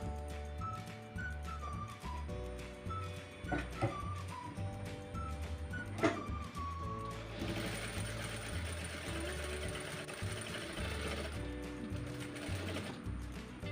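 A sewing machine stitching a t-shirt being upcycled, running with a close mechanical whirring and rapid ticking in uneven bursts that steady into a continuous run.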